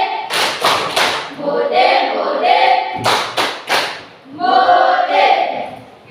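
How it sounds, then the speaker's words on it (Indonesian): A class gives a Javanese-style salute clap for a group: two bursts of three sharp, rhythmic claps, each followed by a brief chanted vocal phrase, repeated in the same pattern. "tepuk salut ala Jawa untuk kelompok 1"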